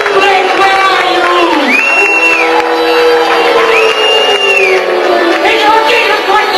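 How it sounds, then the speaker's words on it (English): A comedy club audience roars with sustained cheering, whoops and applause, a dense, loud crowd wash with shouted voices rising above it throughout. "Maybe a round of applause"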